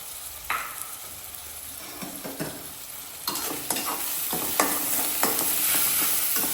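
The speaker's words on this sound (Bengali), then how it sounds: "এখন পেঁয়াজটাকে একটু বাদামি করে ভেজে নিব।" Onions fry in oil until brown, with a constant close sizzle and frequent scraping stirs and clinks of a spatula in the pan.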